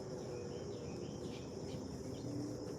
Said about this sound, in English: I can hear the birds and nature.